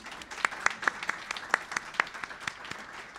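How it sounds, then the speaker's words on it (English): An audience at a voting rights institute launch breaks into applause, a thin patter of separate claps with distinct sharp hand strikes standing out, fairly soft and distant, lasting a few seconds. "Round of applause."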